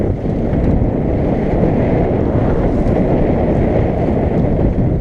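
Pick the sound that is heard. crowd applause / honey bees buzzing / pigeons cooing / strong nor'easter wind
strong nor'easter wind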